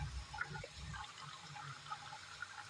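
Water poured into a tub for hand-washing clothes at home, a low rushing pour in the first second followed by quieter sloshing and trickling, faint and close, with no talking.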